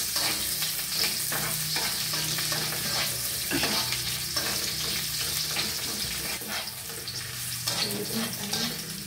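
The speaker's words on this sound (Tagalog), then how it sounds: "igisa muna natin itong sibuyas" Onion sautéing in a pan for a mung bean dish, a dense, loud, continuous sizzle with frequent stirring scrapes and clatters, close by, with no talking.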